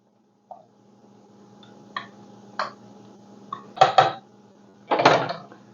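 A spoon stirs canned diced tomatoes in a pot for spaghetti sauce, giving a few separate clinks and scrapes against the metal with quiet gaps between them, close by.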